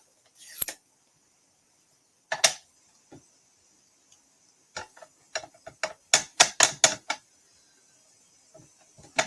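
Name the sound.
rubber stamp inking and stamping tree image in Early Espresso ink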